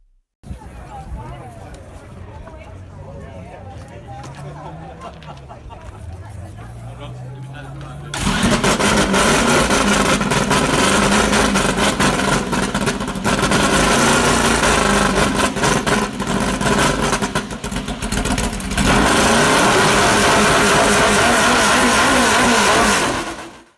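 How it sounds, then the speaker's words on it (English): A Ford Indy dual-overhead-cam V8 racing engine sits at a low idle, then abruptly roars into loud, sustained high revs with blips and rising pitch, close and overpowering. "let's take a quick sound check"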